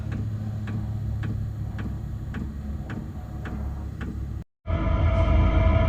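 A running Chinese diesel heater ticks in an even, steady rhythm of about two beats per second over a constant hum, close and clear, then cuts to a brief gap and a louder, steady droning blow.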